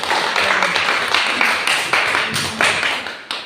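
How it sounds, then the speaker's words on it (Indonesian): Classmates in a school classroom clap for a presenting student, a steady close patter of many hands that holds throughout with brief swells, and faint voices are present beneath it. "Tepuk tangan dulu untuk temannya."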